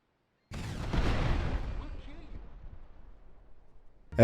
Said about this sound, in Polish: dla odmiany użyjemy sobie wyrzutni rakiet RPG